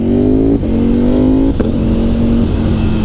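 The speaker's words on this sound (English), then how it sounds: "this thing is blaring. If there's an angrier bike, I've yet to meet it." Ducati superbike engine revs hard and loud up close, a rising howl cut by two brief shift dips and then held high, blaring and aggressive.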